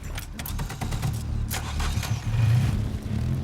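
A car engine turns over and settles into a steady low idle rumble, with clicks and mechanical knocks over it, close and fairly loud.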